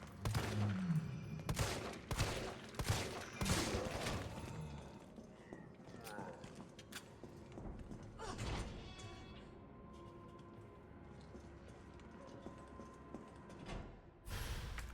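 Gunfire in Resident Evil 3 Remake: a string of sharp, spaced shots early on, then quieter ambient stretches and a final pair of loud bangs near the end, with a voice speaking in between.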